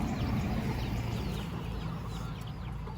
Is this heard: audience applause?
no